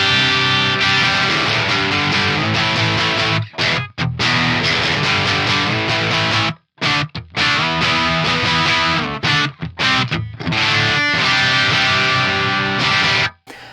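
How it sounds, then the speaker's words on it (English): Distorted electric guitar played through a Friedman Small Box amp model on an Axe Fx III, Tom Anderson Cobra guitar on its HC3 bridge pickup wired in parallel; loud, dense riffing with brief stops between phrases. "So what you just heard was on my bridge pickup in parallel."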